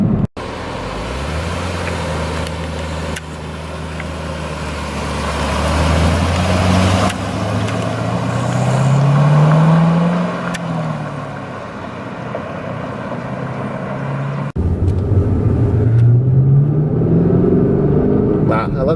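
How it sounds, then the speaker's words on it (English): Stock exhaust of a 2012 Chevrolet Camaro SS RS with a six-speed manual, a deep engine rumble rising and falling through revs and gear changes, loud and steady from inside the car. "I love the rumble of this exhaust."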